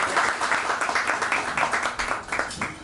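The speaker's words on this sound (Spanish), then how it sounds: "Le enviamos un aplauso y un saludo." Audience applause at a book presentation, a moderate room of people clapping in uneven bursts with individual claps standing out, steady for a few seconds and without talk.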